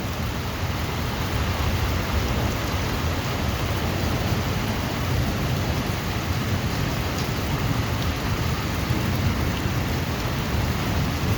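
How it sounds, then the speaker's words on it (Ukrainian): Heavy rain pours steadily through a thunderstorm with frequent lightning, a dense constant roar with a low rumble underneath, continuous and loud with no voices. "зараз великий дощ, але на дворі лупе так, що буває видніше як днем"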